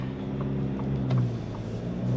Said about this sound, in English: in terms of engine noise, it feels very, very similar to a Ford Ranger.